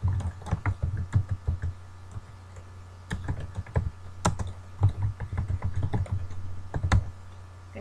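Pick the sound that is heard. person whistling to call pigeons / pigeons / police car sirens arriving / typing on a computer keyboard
typing on a computer keyboard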